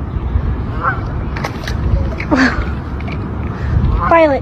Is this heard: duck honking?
yes